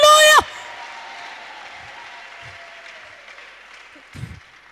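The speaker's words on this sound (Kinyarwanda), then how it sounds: "Amashyi menshi kwa Yesu" Church congregation clapping together after a sermon, a broad wash of applause that starts after a brief loud vocal burst and slowly fades out, heard from a distance in a reverberant hall.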